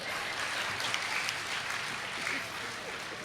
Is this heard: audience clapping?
yes